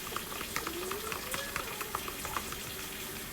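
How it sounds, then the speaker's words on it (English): A fork stirs water and flour together in a bowl to make gravy, giving steady close scraping and light tapping clicks with a soft wet churn underneath. "and you stir it together like this."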